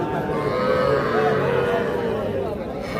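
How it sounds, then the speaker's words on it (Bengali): Crossbred bull calf, about three months old, at a rural cattle market, lowing amid a steady hubbub of crowd chatter and other livestock, with people talking nearby throughout. "এটা কিন্তু দেখছেন যে ক্রস জাতের ষাঁড় বাচ্চা"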